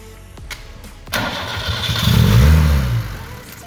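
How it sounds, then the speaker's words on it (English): A barn-find 1974 BMW 2002 engine is revved with the throttle opened, building from a rough idle into a loud, rising roar that peaks and then eases off, close up. "Okay, I'll give it some throttle. I'll give it some gas. Open the throttle."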